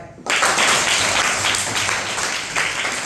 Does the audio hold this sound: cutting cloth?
no